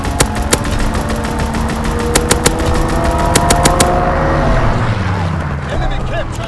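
Strafing-run machine-gun fire in Call of Duty WWII on the Shipment 1944 map, rapid loud bursts of shots over engine rumble and battle noise, fading into a low roar, with game voice callouts.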